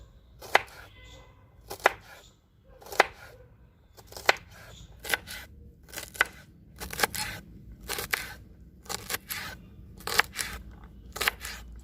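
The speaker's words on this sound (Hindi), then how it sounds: "अब हम अपनी बीन्स को काट लेते हैं" A knife chops green beans on a board for vegetable moong dal khichdi, sounding as sharp, fairly close knocks that come in an irregular rhythm, with some quicker runs of cuts and brief pauses between them.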